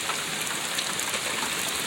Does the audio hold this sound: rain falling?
yes